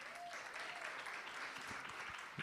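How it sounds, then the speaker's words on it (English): Audience applause for a demonstration model at a sports medicine talk on adolescent and pediatric ankle exams, steady and fairly faint throughout, with a few brief voices mixed in. "Stand up for a round of applause for our model."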